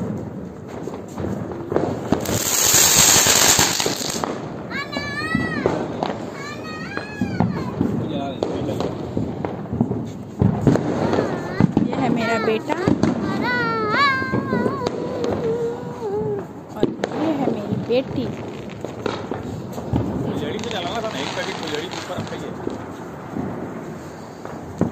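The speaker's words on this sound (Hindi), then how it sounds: "और यहाँ पे सब लोग पटाखे फोड़ रहे हैं" Diwali firecrackers go off around a rooftop in an Indian home, with crackling bursts and pops near and far over a constant hum of voices, including children.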